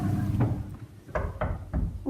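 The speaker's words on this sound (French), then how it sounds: "un petit garçon vint frapper à sa porte" Several sharp knocks on a door in two short groups, the first a single rap and then a quick cluster of three, close and fairly loud over a low background hum.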